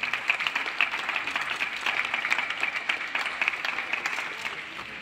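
An audience applauds costumes and ballet performers at a festival costume show, a dense, steady wash of clapping from many hands lasting throughout.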